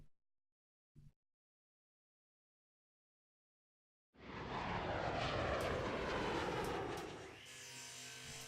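An aircraft engine in the OpenTTD train and transport game: a brief blip, a few seconds of silence, then a loud, steady broadband engine roar that swells in and holds to the end.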